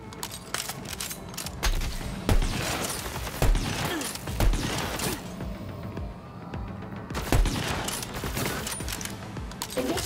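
Gunfire rattles in the video game Borderlands 3, repeated bursts of automatic shots and heavy impacts in close, dense volleys with short lulls, no talking.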